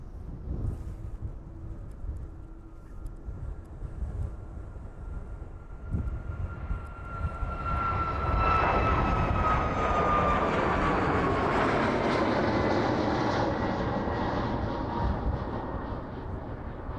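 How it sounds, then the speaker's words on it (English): A Boeing 737 airliner approaching East Midlands Airport in the evening, its engine roar rising from a distant whine to a loud, broad rumble as it draws closer, with a high tonal whistle sweeping downward. "That Rhino 737 in the distance, making its way down towards us now."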